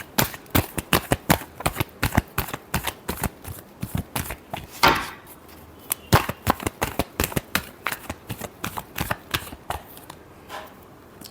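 A tarot deck is shuffled by hand in a long run of crisp, rapid riffles and slaps, close and steady with brief pauses between bursts.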